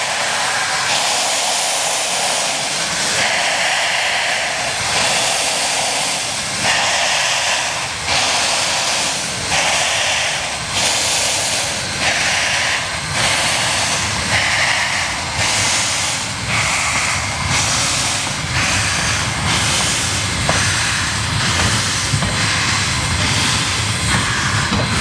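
Steam locomotive JA1275 leaving the Parnell depot at dawn, a loud, continuous mechanical roar with rhythmic chuffing pulses repeating throughout and a constant low rumble underneath.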